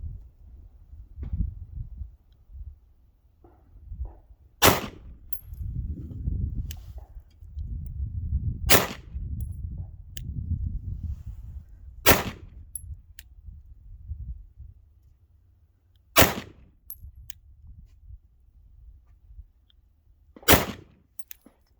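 A Glock 19 Gen 5 pistol fires at a paper target while being zeroed at five, with five sharp, loud shots spaced several seconds apart over quiet room noise.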